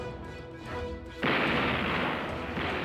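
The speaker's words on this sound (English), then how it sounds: "the Jersey's 5-inch gunners get some action, firing hundreds of rounds into its overmatched opponent" Rapid 5-inch naval gunfire aboard the battleship USS New Jersey engaging a Japanese minesweeping trawler: a dense, loud sustained barrage of booming blasts that erupts abruptly and rolls on continuously with no speech.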